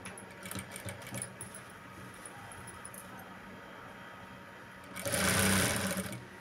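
A sewing machine stitches the hem of a lined blouse, a steady soft whir that swells into a louder, denser burst of running stitches near the end.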